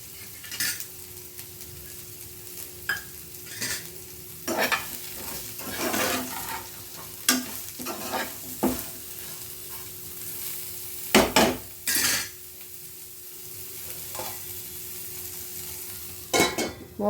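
Bitter gourd pieces fry in hot tempered oil with salt and turmeric, sizzling steadily while a metal spoon stirs and scrapes the pan in repeated irregular clanks.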